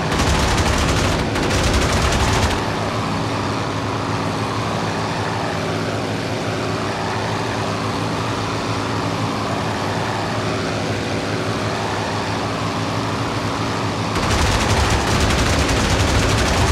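Sustained gunfire in a flight combat video game, a long dense burst of rapid fire that stays loud and continuous over steady engine roar.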